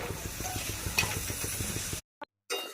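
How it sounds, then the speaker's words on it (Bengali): Aloo paratha frying in a pan, a steady close sizzle with light stirring or scraping taps, then the sound cuts to silence with a brief blip before the sizzle returns. "আমি একইভাবে প্রত্যেকটা পরোটাকা ভেজে নেব"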